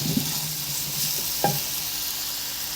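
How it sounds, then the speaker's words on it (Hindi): Onions sizzle steadily while frying in a pan, with a few soft stirring knocks and scrapes at close range. "प्याजों को फ्राई कर लेंगे।"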